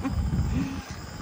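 A tiger in a zoo enclosure lets out a low, rumbling roar-like growl, fairly close and steady, lasting about a second before easing off.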